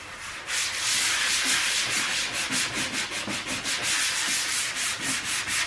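Steady rhythmic sanding strokes across a car dashboard being prepared for flocking, loud and close, a continuous scratchy rubbing with regular back-and-forth pulses and no voices.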